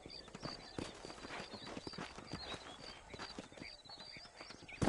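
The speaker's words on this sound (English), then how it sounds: "These are fine horses." Horse hooves clip-clopping in the Red Dead Redemption video game, a steady rhythmic run of hoof strikes at moderate distance, continuous throughout.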